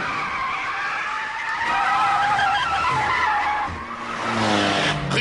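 Two anime race cars, a Mazda FC and a Lancer Evolution III, battle closely with sustained tire squeal and skidding over roaring engines, loud and continuous, with a brief dip before the screeching swells again.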